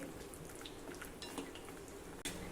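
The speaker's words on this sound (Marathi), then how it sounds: "हे काजू आणि बदाम जरा हलक्या तांबूस रंगाचे होईपर्यंत आपल्याला तळून घ्यायचे आहे" Cashews and almonds frying in ghee, a soft crackling sizzle with scattered clinks of a spoon against the pan, faint and close, with no talking.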